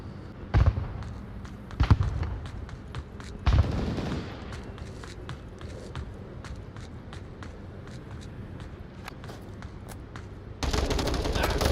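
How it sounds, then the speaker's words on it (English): AK-5C rifle shots in the VR shooter Onward crack out in a few loud bursts early on, then softer distant shots and footsteps follow, and a louder stretch of gunfire comes at the end. "Cerebras should hear those AK-5C shots"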